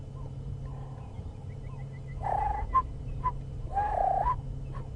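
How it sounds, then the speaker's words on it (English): Outdoor bird calls in the lowveld: soft repeated cooing notes of a turtle dove in the background, then a few short, clear whistled phrases of an orange-breasted bush shrike standing out over a steady low hum. "the beautiful call which you hear often in the lowveld, the orange-breasted bush shrike"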